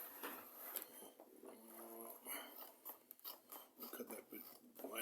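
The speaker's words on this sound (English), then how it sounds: "I prefer to use a pair of scissors." Scissors cutting through a leather hide for a 15th-century pouch replica, a rough rasping, crunching snip repeated in short bursts, close and fairly quiet with no talk.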